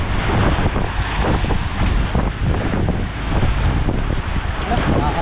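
Rough sea with whitecapped waves breaking at a shore entrance, a steady loud roar of surf mixed with heavy wind buffeting the microphone, continuous throughout with no pauses.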